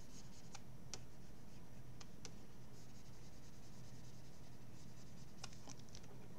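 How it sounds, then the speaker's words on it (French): An eraser rubs out pencil construction lines on a drawing of a pirate, making faint, scratchy paper rubbing with a few sharper ticks over a quiet, steady background hiss. "Je gomme tous les traits de construction pour que je puisse bien voir."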